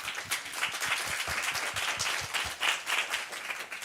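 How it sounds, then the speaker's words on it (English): An audience at a business talk gives a round of applause, a dense, steady wash of many hands clapping at moderate volume with no speech over it. "So a round of applause."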